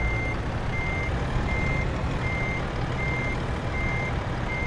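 Truck reversing alarm in Euro Truck Simulator 2, a steady repeating electronic beep about twice a second over a constant low engine drone, loud and continuous with no talking.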